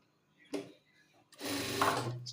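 A sewing machine stitches a jubba sleeve in a short run, a dense mechanical whir following a brief knock, close and fairly quiet.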